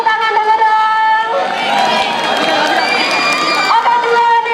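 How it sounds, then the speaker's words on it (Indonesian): A school audience at a student council election rally claps, cheers and whoops together, a loud close burst of excited young voices with scattered shouts over the applause. "beri tepuk tangan dulu dong untuk Kak Farelnya."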